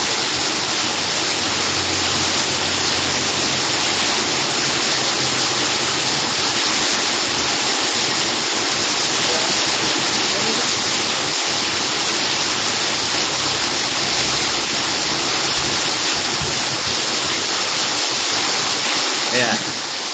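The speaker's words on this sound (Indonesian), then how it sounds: "Maaf lagi gangguan suara hujan." Steady, dense hiss of heavy rainfall, unbroken and fairly loud for the whole stretch, with a few faint low thumps underneath.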